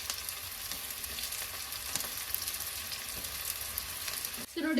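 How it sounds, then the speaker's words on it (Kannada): Onions and halved green chillies fry in hot oil for an egg curry, a continuous even sizzle with faint stirring, ending in a soft clatter as the pan is handled. "ಇವಾಗ ಈರುಳ್ಳಿ ಮೆಣಸಿನಕಾಯಿ ಹಾಕೊಂಡಂತೆ ನಾನು ಇದನ್ನ 1 ನಿಮಿಷದವರೆಗೂ ಫಸ್ಟ್ ಫ್ರೈ ಮಾಡ್ಕೊಳ್ತೀನಿ"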